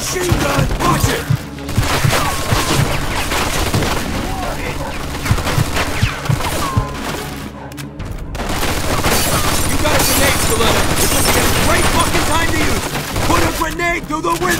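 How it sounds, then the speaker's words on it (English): Heavy machine gun fire and explosive booms fill a shootout in the crime game Mafia II Definitive Edition, loud and continuous with a short lull midway, while voices shout over the battle. "Looks like we found a machine gun."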